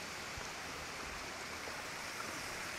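Water flows at Malico waterfall, a faint, steady broadband rush of running water with no voices.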